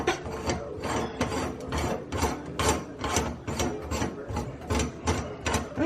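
A plumbing pipe being threaded by hand with a die and ratchet, giving steady rhythmic rasping strokes roughly twice a second, close and fairly loud with no talking.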